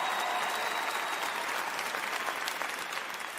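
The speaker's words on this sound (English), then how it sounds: "You guys are clapping, but he's not leaving." An audience applauds at a stand-up comedy show, dense steady clapping from a large crowd, moderately distant and fading slightly at the end.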